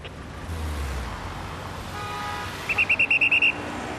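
A traffic officer blows a whistle in a rapid string of about eight short, shrill, evenly spaced blasts. A steady rumble of road traffic runs underneath, and a passing vehicle is heard earlier.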